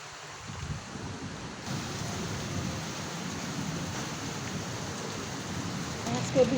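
Heavy rain falls in a sudden early-summer shower in rural Bangladesh, a steady, even hiss that stays constant throughout.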